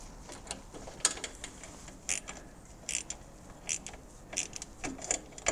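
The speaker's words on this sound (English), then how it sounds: "I always just use my stubby ratchet" A stubby ratchet clicks in short irregular bursts while it tightens the starter motor bolts on a Suzuki DR650, with each ratcheting pass close and fairly quiet.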